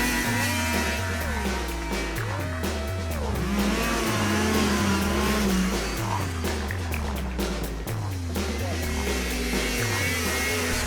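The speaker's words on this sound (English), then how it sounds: "snowmobiles go fast." Snowmobiles race past at speed at a big event, engines revving and shifting in a repeated rising and falling pattern, loud and steady throughout with crowd noise underneath.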